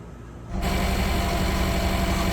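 An engine turns over and catches at about half a second, then settles into a steady, loud idle with a constant low hum and vibration.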